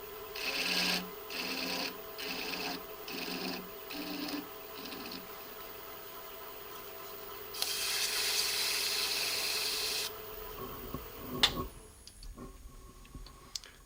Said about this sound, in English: Now I'm going to change the tip and put the cylinder cutter in